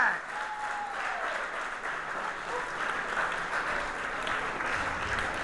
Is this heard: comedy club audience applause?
yes